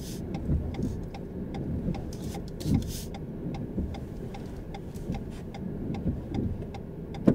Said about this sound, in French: on met un petit clignotant pour sortir